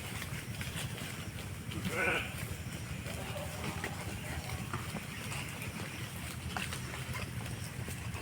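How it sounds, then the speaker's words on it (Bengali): A Garole sheep on a farm lets out a single quiet bleat early on, set against a soft, constant background hum. "উন্নত জাতের গারল"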